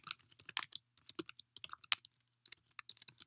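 Code being typed on a computer keyboard, crisp close key clicks in irregular bursts with brief gaps, clear against near silence.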